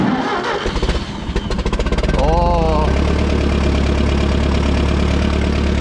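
A small tractor engine is choked and cranked with the starter button, catching after a few rapid chugs and settling into a loud, steady idle close by. A brief exclamation is heard during the start.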